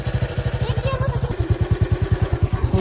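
A motorcycle engine thumps in fast, even pulses close by during a rough village ride, with a voice speaking over the rhythmic chug.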